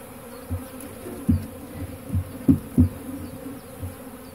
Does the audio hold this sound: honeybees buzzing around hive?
yes